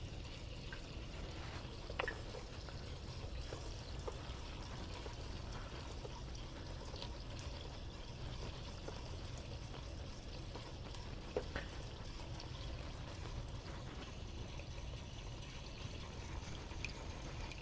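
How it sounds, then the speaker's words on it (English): Rinse water is poured off washed raw alpaca fleece, a steady splashing trickle with faint drips running continuously at moderate volume, with no talking. "I'm just going to go ahead and capture that water again"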